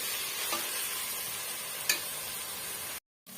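Tomatoes sauté in oil for chicken biryani with a steady, close hiss of sizzling and a couple of faint clicks. The sound briefly cuts out before resuming.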